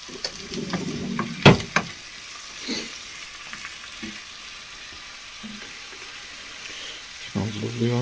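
Noodles stir-frying in a pan for a budget stir fry, a soft steady sizzle broken by sharp spoon-on-pan clinks and scrapes, with bursts of talk around it.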